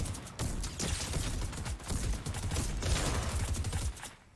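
Dense, sustained gunfire in Fortnite, a rapid crackle of many shots filling the clip at close range and then cutting off, with no talk.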